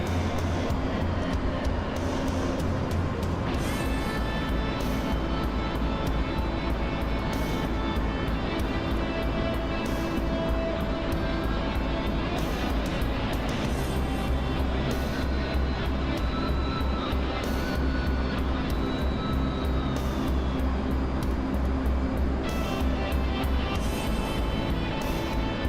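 A jet aircraft in a combat flight simulator cruises on the Sinai map with afterburner off, its engine a continuous loud roaring drone that stays steady throughout, and no voice is heard.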